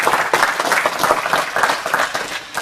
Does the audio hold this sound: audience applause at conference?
yes